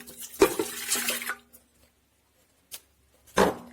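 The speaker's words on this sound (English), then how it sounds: "And in goes the milk." Warm milk poured into a bread machine pan for raisin cinnamon bread, a brief close liquid splash and trickle in the first second or so, followed by quiet and a couple of short clunks.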